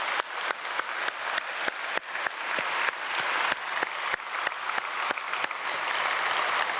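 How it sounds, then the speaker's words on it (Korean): A church congregation applauds during an early-morning prayer service, dense clapping with sharp individual claps standing out rhythmically, steady and fairly loud throughout. "우리 박수로 축복하겠습니다."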